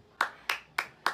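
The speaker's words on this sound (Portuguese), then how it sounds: "Taca aí, edição de aplauso." Four sharp, isolated hand claps at an even, quick rhythm, close and moderately loud with no talking, used as an applause effect added in editing.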